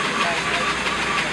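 A valveless model steam engine runs at a steam-up show in Rhode Island, giving a steady, dense hissing chug that stays level throughout, with voices talking over it.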